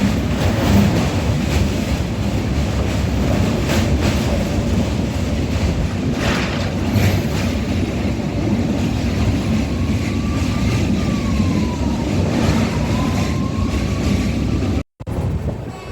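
A passenger train runs between Kolkata and Benaras with a continuous broad rumbling roar and rattle that holds steady throughout, cutting out briefly just before the end, with no talking.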